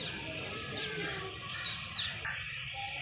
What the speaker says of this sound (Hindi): ये चील।